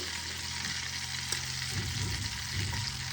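Chopped ginger sizzles in hot oil in a kadhai while kadhai fish is cooked: a steady, fairly soft frying hiss with faint stirring, and no talk.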